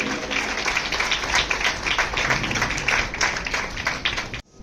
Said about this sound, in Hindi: एक बार जोरदार तालियां इन 25 ही बेटियों के लिए।